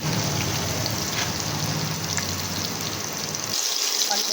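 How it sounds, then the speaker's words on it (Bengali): Eggplant pieces sizzle in hot oil in a home kitchen, a dense, steady crackling hiss that runs loud and close before cutting off near the end. "এই তেলের মধ্যে বেগুন দিয়ে নেব।"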